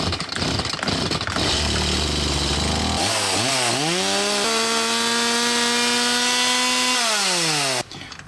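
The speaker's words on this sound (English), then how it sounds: "let's fire this thing up and see how loud it is" A Stihl MS170 chainsaw engine sputters to life and revs loudly, then settles into a steady high whine before cutting off near the end.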